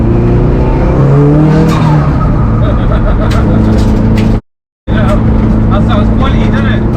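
A 556hp Subaru Impreza STI racing car's engine roars loudly with a ringing echo and a sharp squealing edge, a sustained drone that briefly cuts out before returning, while people talk inside.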